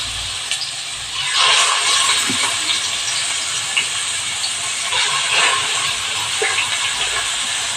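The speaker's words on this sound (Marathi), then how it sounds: "हा मी कीस चांगला परतून घेणार आहे" Grated cucumber sautéing in hot ghee, making a steady, hissing sizzle with bursts of louder crackle and some scraping.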